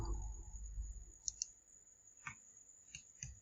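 A computer mouse clicks during AutoCAD drawing, a few faint isolated clicks, some in quick pairs, over a low background hum and a steady high whine.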